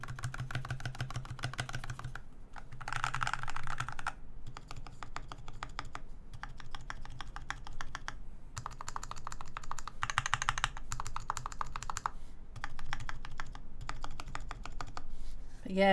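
Steady, rapid typing on a modded Poker 3 mechanical keyboard with Alpaca switches and a Bandaid mod, giving soft, dampened clacks close up with a few brief pauses between bursts.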